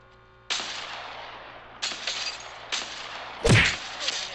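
Gunfire in the Apex Legends Mobile battle royale game: several sharp bursts of shots at irregular intervals, the loudest and closest near the end, over a low steady background hum with no talking.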